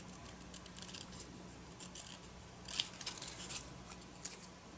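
Scissors snip through paper to trim away the white border for envelope art, a quiet series of short crisp cuts close by, with no talking.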